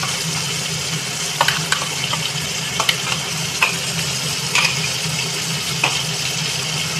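Ginger, garlic and onion paste fries in hot oil in a pan for a home-style chicken curry, a steady dense sizzle running throughout with several sharp scraping stirs of a spatula spaced across it; no voices.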